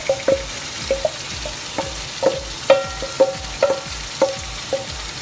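Marinated chicken fries with browned onions for chicken do pyaza, a close sizzle under repeated scraping spoon strokes against the pan in an uneven stirring rhythm.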